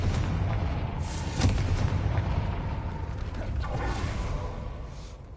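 A Confringo fire spell bursts at a gate in a Harry Potter video game, a dense, booming blast with a crackling, rumbling tail that holds steady for several seconds before fading, loud and close with no talk.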